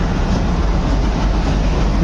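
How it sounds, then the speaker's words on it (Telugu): A diesel shunting locomotive hauling the Kaghaznagar Superfast Express rake into a station platform, heard as a steady, loud low rumble and rolling noise with no speech over it. "ఇప్పుడే మన ట్రైన్ని ప్లాట్ఫామ్ నెంబర్ 1కి అయితే తీసుకొస్తుంది. షంటింగ్లోకి,"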